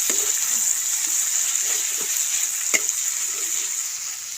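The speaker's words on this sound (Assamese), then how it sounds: "এইফালে মচলা ভাজি আছে" Spices fry in a pan for a broiler chicken curry in a home kitchen, giving a steady close sizzle with occasional scrapes and soft knocks of stirring, and one brief sharper clink partway through.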